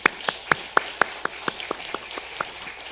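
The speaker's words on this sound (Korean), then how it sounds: "환영하겠습니다. 박수." A small church congregation claps to welcome a returning guest, with about a dozen sharp, evenly spaced claps close by that soften slightly toward the end.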